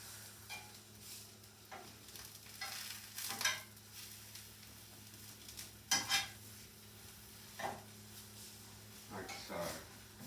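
Eggplant slices sear on a hot griddle with a quiet steady sizzle. Occasional clinks of a spatula or utensil are heard, and a person talks faintly in the background.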